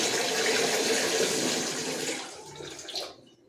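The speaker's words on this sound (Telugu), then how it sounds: "రైస్ అయితే కడిగి పడుతున్నా సాయంత్రానికి" Rice being washed under running tap water in a home kitchen: a steady, close rush of flowing water that stays loud, then thins and tapers off near the end, with no voices.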